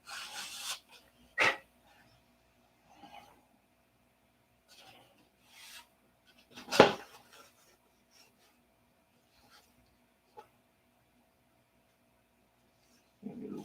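Sandpaper rubbing on a model Republic P-47 airplane, a handful of short, separate rasping strokes spread across a quiet room, one louder scrape near the middle, close and faint overall.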